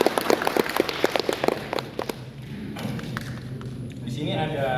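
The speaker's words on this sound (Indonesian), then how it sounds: "Sekali lagi lah boleh tepuk tangan." Audience applause at a mining coaching clinic, a dense burst of clapping that thins out after about two seconds into a room hum, with a voice starting to speak near the end.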